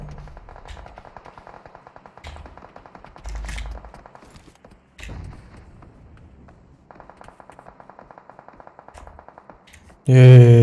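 Video game gunfire comes in rapid automatic bursts and a few heavy single shots, fairly loud. A loud, sharp sound closes it. A player talks in short stretches between the bursts.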